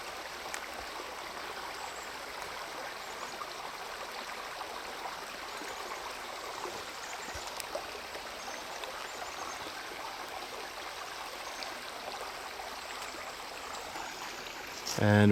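River water flowing past old railway bridge pilings, a steady broad rushing wash heard from some distance, even and continuous with a brief thump near the end.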